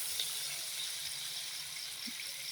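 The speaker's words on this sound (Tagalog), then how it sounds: "Lagyan natin ng tubig mga lods para maluto siya." Water runs into a pot of clams on a stovetop, a steady close wash of liquid pouring without pause, with faint kitchen background underneath.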